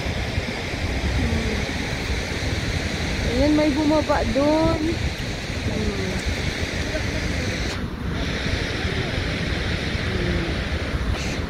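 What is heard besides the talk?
Godafoss waterfall water rushing in Iceland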